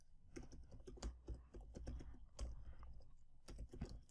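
Computer keyboard being typed on while entering web code, irregular bursts of close key clicks and thumps at a quiet level, with no speech.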